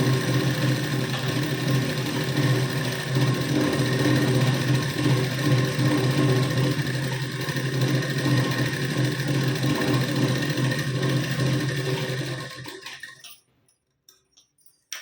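A sewing machine stitches down the folded hem of a blouse, giving off a steady, close mechanical whir with a fast rhythmic clatter. It runs unbroken for about twelve seconds, then stops and leaves near silence.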